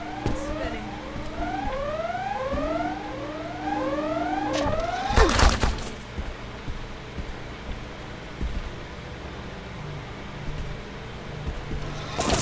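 An alarm siren in the video game Deus Ex: Invisible War repeatedly sweeps upward in loud electronic wails, then cuts off with a sharp crash about halfway, leaving a dull rumbling background.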